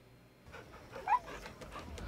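A dog gives a single short, high whimper partway through, faint against a quiet room background with no talking.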